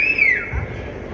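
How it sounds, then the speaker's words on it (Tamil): A shrill whistle from an audience at a village temple stage drama rises briefly and then slides downward, loud and close, followed by a low thump and general crowd noise. "பேசும்போது விசில் அடிச்சீங்கன்னா பேச்சு வெளியில கேட்காது"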